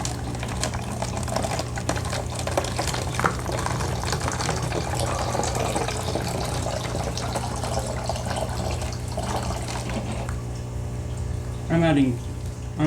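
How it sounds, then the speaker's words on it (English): Sugar water pours steadily through a funnel into a bottle for several seconds over a constant low hum, ending with a few gurgles and a short rise in sound. "pour our sugar water in there"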